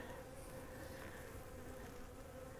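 Honey bees swarm over a hive frame during a hive split, a dense continuous buzzing hum, close and steady throughout with no voices.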